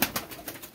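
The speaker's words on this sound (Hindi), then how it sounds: "ये कबूतर भी माशाल्लाह चेक कर सकते हैं, कबूतरों के आउटस्टैंडिंग कबूतर" Champion breeder pigeons give a short run of soft, close coos, several low pulses in quick succession with no voices over them.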